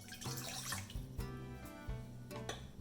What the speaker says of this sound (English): let's start by pouring the water